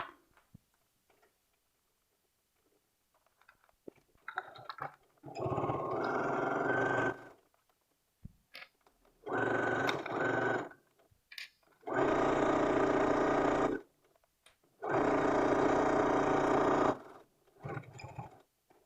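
Sewing machine with a twin needle hemming a T-shirt sleeve, running in four steady buzzing bursts of about two seconds each, separated by quiet pauses with small clicks and fabric handling, close and without talk.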